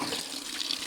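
Water gushes strongly from a fully opened village tap, a steady loud splashing hiss with no voices.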